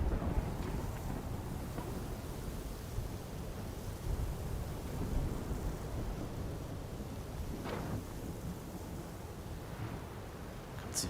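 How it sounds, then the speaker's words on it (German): Wind and dust storm in the video game Horizon Forbidden West, a continuous broadband rush of gusting wind with a few brief whooshing swells, steady and fairly loud, with no talking. "Ganz Wind und Staub."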